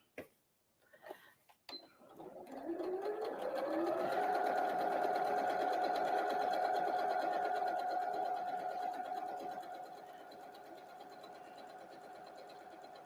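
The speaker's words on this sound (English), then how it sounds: "when you're sewing curves like this, just be kind of gentle and ease it in." A sewing machine stitching fabric Christmas tree napkins along a curve, starting with a few clicks and then running in a steady sustained whir before slowing slightly, close and fairly quiet.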